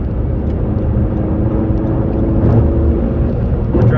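Car cruising on Las Vegas highway 215, a loud, steady rumble of road and tire noise with a low engine drone throughout, no voices.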